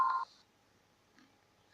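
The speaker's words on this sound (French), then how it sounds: "c'est juste mon portable qui a sonné pour me dire que c'est bien de voir" A mobile phone gives a short electronic beep tone, then faint quiet follows with a couple of soft ticks; no talking.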